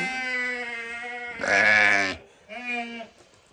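Sheep of the Haymana Karası breed bleat loudly nearby at night, a long wavering call followed by a louder cry and then a shorter one.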